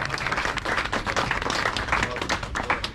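An audience claps to welcome Dr. Toqeer Gilani, JKLF president for the GB-AJK zone, to the stage at an event in New York, a steady ripple of mid-sized applause filling the room for three seconds.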